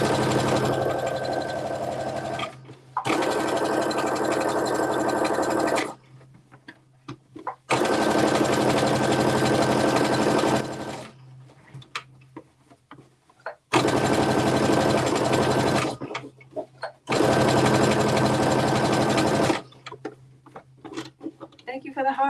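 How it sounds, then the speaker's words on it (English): Sewing machine stitching a flat felled side seam on a top being made into shorts, running in several long, steady bursts with short pauses between them. "let me do the flat felt seam on the side seam to match the other side"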